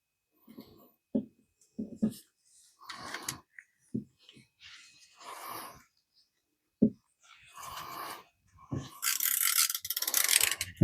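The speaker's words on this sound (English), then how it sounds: "I need to get a trusty socket wrench" A socket wrench ratchets on a Triumph Tiger 800 motorcycle during servicing, in short separate bursts of clicking with pauses between them, close by and fairly quiet, and a faster run of clicks near the end.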